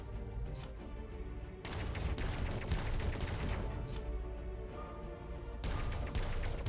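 Video game gunfire opening up: rapid sustained bursts of automatic fire, loud and close, pausing briefly before resuming in long rattling volleys.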